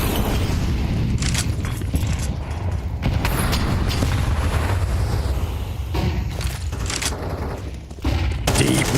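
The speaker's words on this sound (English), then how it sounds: "Deep nade damage coming in here." Grenade explosions in Counter-Strike during an ESL Pro League match, Imperial versus Eternal Fire, sound as loud repeated bursts and gunfire, dense and continuous with several sharp blasts.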